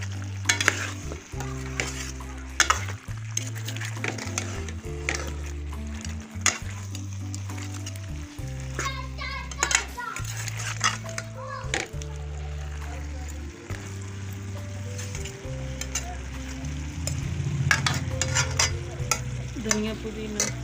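Chicken necks and turnips stir-fried in a pan with coriander and mint, a constant close sizzle broken by repeated scraping stirs of a spoon against the pan, loud with no talk.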